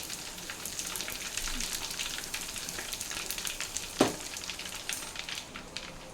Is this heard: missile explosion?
no